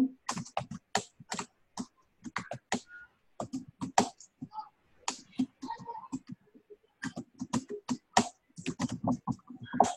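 Rapid clicking of computer keyboard keys as a Facebook group post is typed, bursts of keystrokes in uneven runs with short pauses, close and fairly quiet, no talking.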